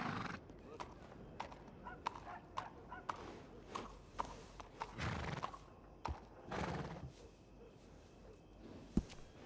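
A horse in Red Dead Redemption 2 whinnies among clip-clopping hooves and footsteps at a stable, with quiet talk and occasional sharp knocks around it.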